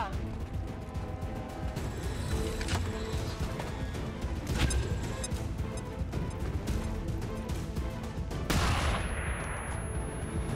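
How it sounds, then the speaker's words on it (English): Tactical battle sounds from the strategy game XCOM 2, a flashbang grenade bursting with a loud crash among scattered gunfire and mechanical clatter, a sharp bright burst near the end. "so I guess we'll just use the flashbang first"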